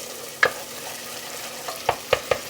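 Tomato paste fries in oil in a pan while being stirred, giving a soft steady sizzle with a few scraping clacks of the spoon, one early and a quick cluster of three near the end.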